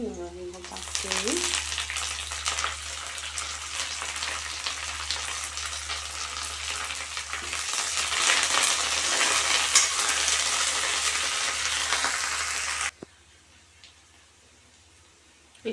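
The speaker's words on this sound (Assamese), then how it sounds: "এতিয়া মই দি দিম নৰসিংহ পাতখিনি।" Curry leaves hit hot oil already holding raw garlic in a pan for a soya chunk and potato curry, giving a loud, steady crackling sizzle for about thirteen seconds before it abruptly drops to quiet.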